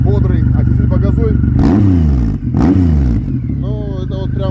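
Triumph Rocket III motorcycle fitted with a Hammer exhaust, idling loudly up close and then blipped twice in quick succession, each rev rising and falling, with voices talking before and after the throttle bursts.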